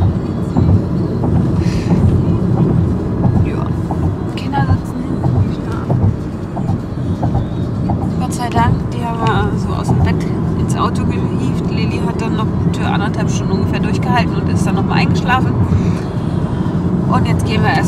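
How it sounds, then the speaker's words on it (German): A car driving into the Elbtunnel in Hamburg, passing the harbour, gives a steady loud road and tunnel rumble throughout, with a voice speaking over it. "Jetzt fahren wir in den Elbtunnel."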